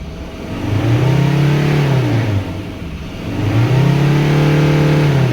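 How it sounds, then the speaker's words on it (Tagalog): A Mazda BT50 3.2 engine, refitted with a new cylinder head and injectors, revs twice up to about 4,500 RPM, each rise holding briefly before dropping back to a lower idle, loud and close. "So ngayon, i-try nating i-engine rave."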